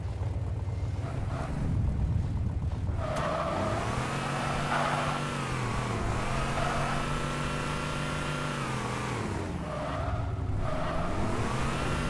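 A vehicle driven in the video game Halo 3 ODST, a continuous engine drone that rises and falls in pitch as it speeds up and eases off, loud and steady for the whole stretch, no talking.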